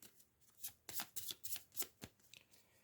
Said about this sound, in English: I'll shuffle the environment deck.